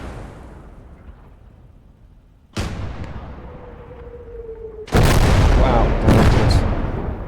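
Mortar fire in Call to Arms Gates of Hell: Ostfront, a USSR versus Germany battle, lands as two sharp, loud close impacts a few seconds apart, the second followed by lingering rumble; a voice briefly exclaims.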